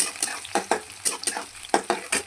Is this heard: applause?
no